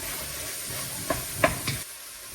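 Food sautéing in a pan with oil gives a soft, constant sizzle and hiss, with a few faint scraping stirs near the middle before the sizzle fades out at the end.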